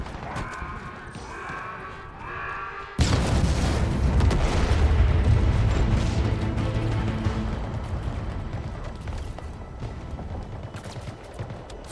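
A gun generator is destroyed in Halo Infinite, bursting into a sudden loud explosion after a quieter passage. The deep rumbling blast rolls on for several seconds and slowly fades.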